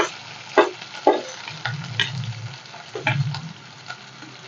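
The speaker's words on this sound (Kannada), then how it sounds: "ಈರುಳ್ಳಿ ಚೆನ್ನಾಗಿ ಫ್ರೈ ಮಾಡ್ಕೊಳ್ಳೋಣ ಸ್ವಲ್ಪ ಕೆಂಪು ಬಣ್ಣಕ್ಕೆ ಬರಲಿ" Chopped onions with green chillies and curry leaves fry in hot oil for egg bhurji, a steady low sizzle broken by a few sharp spatula scrapes and clinks against the pan, close and alone with no voices.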